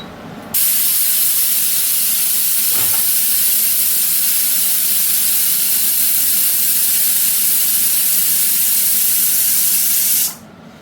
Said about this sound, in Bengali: প্রেশার কুকারে 2টো স্টিম দিয়ে নেব প্রথমে।